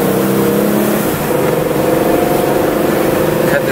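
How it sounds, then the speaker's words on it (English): A 1998 Toyota Camry XLS sedan pulls away from a stop and accelerates up to the speed limit at light throttle. Its engine drones steadily and fairly loudly from inside the cabin, with a faint voice briefly underneath. "That's zero to speed limit at about a third, quarter to third throttle"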